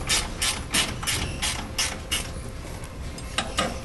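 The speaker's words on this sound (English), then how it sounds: "I'm used to using ratchet wrenches." Ratchet wrench spun repeatedly, giving rapid clicking bursts in a quick regular rhythm, close and fairly loud, slowing slightly near the end.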